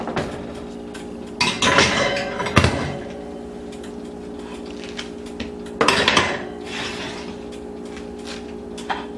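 A cupcake tray slides onto the middle rack of an oven with metallic clanks and rattling scrapes in two short bursts, close and fairly loud, separated by a quiet steady hum.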